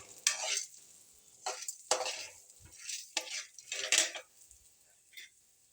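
Chili, urad dal and asafoetida being stir-fried in a pan for ridge gourd thuvaiyal, with repeated scraping stirs and soft sizzling in irregular bursts, close and fairly quiet, no talking.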